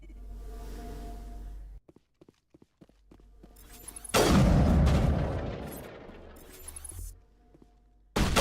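A grenade blast in the video game Mass Effect, a sudden heavy boom with a long rumbling decay, preceded by scattered clicks and footsteps and followed by another short burst of impact noise.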